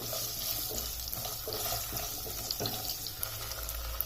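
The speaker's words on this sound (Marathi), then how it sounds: "याला आता आपल्याला तुपामध्येच फ्राय करायचा आहे" Raw potato pieces frying in ghee in a pan: a steady, watery sizzle that holds for the whole stretch, with a few faint scrapes and pops and no talking.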